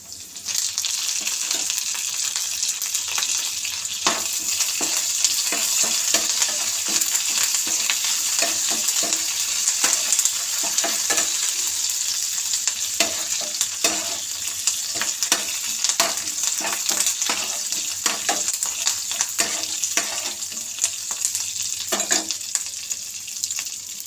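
Curry leaves crackle and sizzle in hot oil in a tempering for raw mango and moong dal rasam, with a steady loud frying hiss and frequent scraping stirs throughout, no talking.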